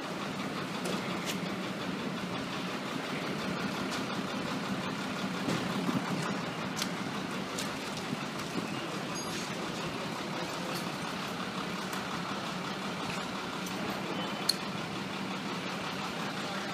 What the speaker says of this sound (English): Ladder 1 support truck.